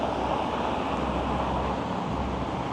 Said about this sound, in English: The wind is just whipping in every direction all at once today.